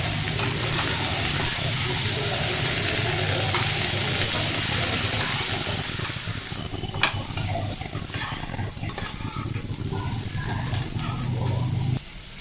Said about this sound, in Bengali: এবার ঢাকনা দিয়ে দিয়ে এটা কিন্তু ভেজে নেব